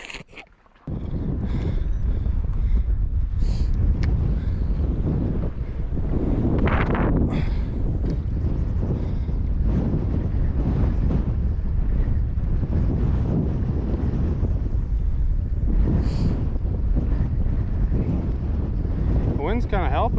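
Steady wind gusts buffet the microphone on an open fishing boat on a cold, windy day of trout fishing, a continuous broadband roar running through the whole stretch with no voices.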